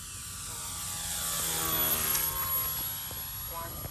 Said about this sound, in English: Nice flyby.